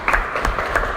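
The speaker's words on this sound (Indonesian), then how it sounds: "Oke, tepuk tangan untuk kita semua." A university mechanics class breaks into a short burst of applause, a dense patter of many hands clapping for about a second.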